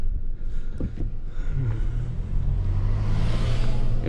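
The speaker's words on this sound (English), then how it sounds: "Oh, we got an incoming vehicle" An approaching vehicle rumbles past on a bumpy rural road, a steady low engine drone building and lingering close by, with no talking.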